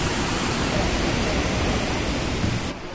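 Water crashes down fast and heavily at Girmal waterfall in Dang, a dense and constant roaring rush heard close by and alone.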